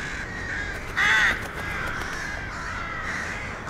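Crows caw outdoors, with one loud harsh caw standing out midway over a steady background of softer calls and ambient noise.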